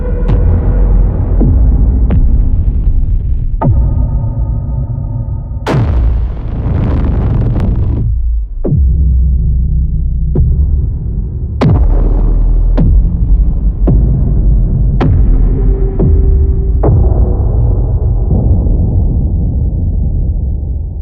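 Deep synthesized sub hit samples strike one after another, about a dozen heavy low booms, each ringing out in a long reverb tail before the next lands, with no voices.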